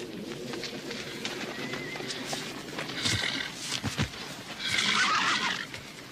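Horses neighing and whinnying in an open plains western setting, a couple of loud whinnies rising over a busy outdoor background with hoof and bird sounds.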